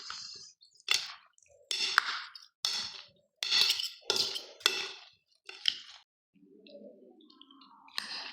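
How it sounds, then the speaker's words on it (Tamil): A spoon stirs a colourful fruit salad in a bowl, giving a steady series of wet, squishy scrapes and clinks roughly every half second, close up with no talk. "இப்போது எல்லாத்தையும் ஒரு கரண்டி போட்டு நல்லா மிக்ஸ் பண்ணிடணும்"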